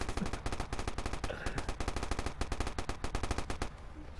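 Rapid automatic gunfire from an online match of the video game Watch Dogs, loud close bursts of shots in a fast, steady rhythm with brief pauses between volleys.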